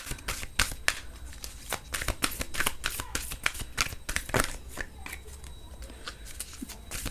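Tarot cards shuffled by hand in a quick series of crisp riffles and flicks, close and fairly steady, with no talking.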